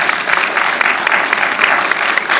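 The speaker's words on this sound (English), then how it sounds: "So let's give them a good round of applause." Banquet audience at a high school alumni dinner applauding Mr. and Ms. Jackson, dense loud clapping from a crowd filling the whole stretch without pause.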